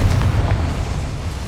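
Confringo blasting curse from Hogwarts Legacy, a loud, sustained booming explosion with a thick low rumble that fills the short moment and slowly eases off, no voices over it.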